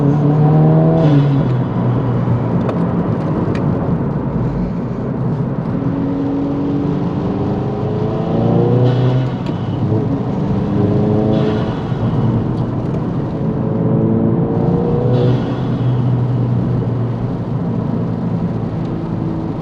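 A tuned 2022+ Subaru WRX running about 23 PSI of boost on pump gas drives and accelerates, its engine note rising through repeated pulls with a loud, steady roar heard from inside the car.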